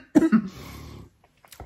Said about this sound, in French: Pardon, oui, je tousse aussi